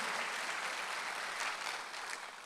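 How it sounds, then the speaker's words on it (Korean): A church congregation applauds during a Sunday worship service, steady dense clapping filling the room for a couple of seconds and easing slightly toward the end, with no voices above it. "박수 하나 더 해주세요"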